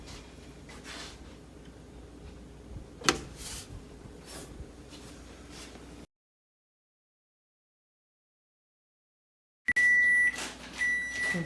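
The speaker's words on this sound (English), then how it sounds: "So I'm going to set the timer for probably 35 minutes" While bread bakes, an oven timer sounds after a stretch of kitchen noise and a silent gap, giving loud, steady electronic tones: one long beep followed closely by another.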